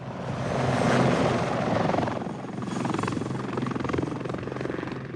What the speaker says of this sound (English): The Army continuously monitors the border and its countryside by helicopter